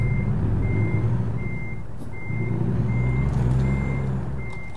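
Truck reversing alarm in the American/Euro Truck Simulator video game, a steady series of evenly spaced high beeps over a low engine rumble, clear and continuous with no talking.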